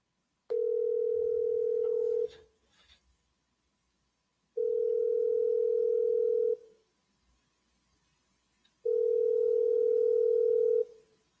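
Telephone dial tone sounding while a call is placed, three steady, loud beeps of about two seconds each separated by silent gaps, with no talk.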